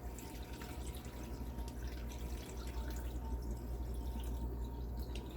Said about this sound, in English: beef broth that I'm just going to pour in here.